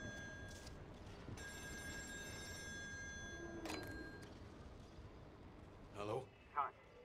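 A telephone rings in the horror game Still Wakes The Deep, a faint, steady electronic trill lasting a few seconds amid quiet ambience, followed by a couple of soft thuds.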